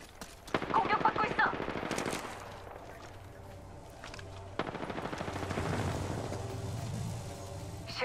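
Gunfire bursts in Apex Legends, a rapid rattling volley near the start, then quieter weapon and movement noise through the rest of the clip, with a voice speaking briefly in between.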